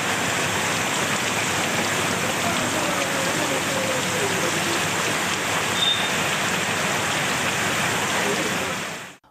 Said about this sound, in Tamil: இரவு நேரத்தில் சுமார் 1 மணி நேரம் கனமழை கொட்டி தீர்த்தது.